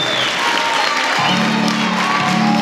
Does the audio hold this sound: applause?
yes